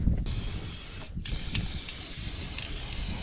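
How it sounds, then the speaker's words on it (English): Steady, close hissing of a spray paint can coating a rusty surface, broken by two brief pauses between bursts. "so I'm going to spray paint the thing"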